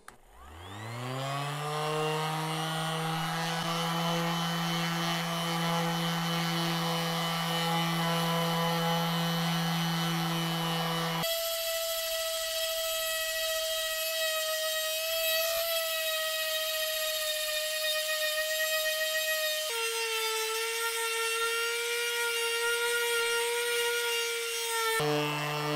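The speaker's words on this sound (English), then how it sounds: "These orbital sanders hold those very nicely. Let's put some rubbing compound on it." An orbital sander loaded with rubbing compound buffs a metal effects-pedal enclosure, giving a loud, steady motor whine and rubbing drone that shifts in pitch as the pressure on the tool changes, with no talking.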